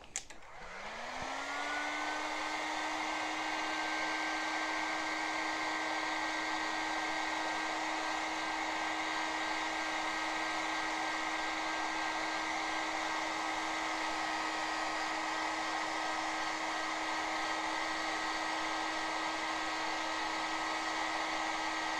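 A heat gun shrinking heat shrink tubing on battery wiring for a 1/6 scale Armortek Hetzer tank model: after a click it spins up to a steady, loud whining blow that holds without change to the end.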